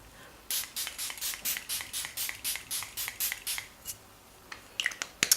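A face mist spray bottle misting repeatedly, about a dozen quick even bursts in a steady rhythm, close and clear, followed by a few light clicks.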